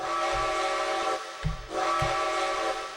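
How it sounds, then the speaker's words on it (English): The traditional Reading six-chime steam whistle of a T-1 4-8-4 Northern locomotive in Trainz 2019 blows in loud, rich chords, cutting off briefly mid-clip before sounding again, over a steady hiss and soft chuffs. "And this has the traditional Reading 6 chime."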